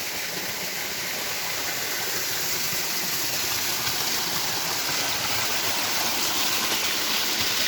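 Stream water flowing, a steady, even rushing hiss with no pauses, fairly close and constant throughout.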